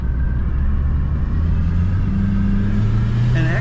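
A 1965 Ford Mustang Coupe pulls away and accelerates on a freezing winter day, its engine rumbling loud and steady close by with a low drone that rises slightly toward the end.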